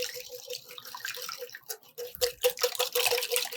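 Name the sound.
whisking egg yolks in a bowl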